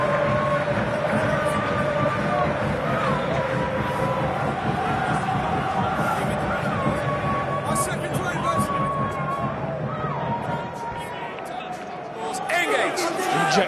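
Home crowd noise at a Clermont versus Munster rugby match, a broad roar of cheering and hubbub from the stands running steadily under a commentator's voice.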